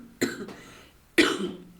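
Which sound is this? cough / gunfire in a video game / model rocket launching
cough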